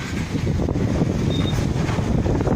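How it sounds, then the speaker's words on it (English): Strong wind on a street before a storm, a loud continuous buffeting rush battering the microphone with no let-up. "pretty windy."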